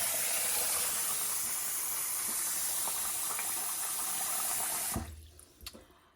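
Water pours steadily into a pot of rice for a sticky-rice recipe, a loud continuous splashing hiss lasting about five seconds before stopping abruptly, followed by a few faint knocks.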